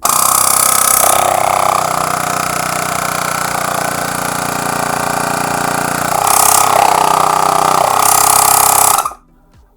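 Osram TYREinflate 4000 portable car tyre compressor running loud and close, a steady buzzing motor drone with shifting pitch for about nine seconds before cutting off abruptly.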